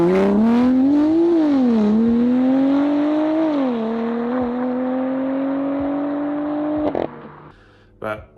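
A BMW M2 Competition's engine and exhaust rev in a rising and falling whine, climbing, dropping, then holding at a higher pitch before cutting off with a few pops, loud and close, with no talk over it.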